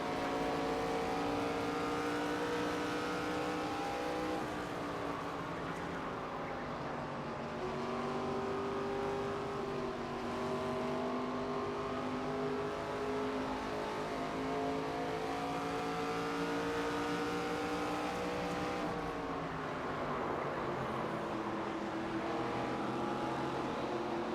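Engines roar continuously as stock cars race at Phoenix in the NASCAR 25 video game. The loud, dense drone rises and falls in pitch as the pack runs through the laps, with no talking.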